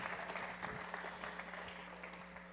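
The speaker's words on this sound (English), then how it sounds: "A round of applause, please." A studio audience at the eSailing World Championship final gives brief, faint applause of scattered clapping.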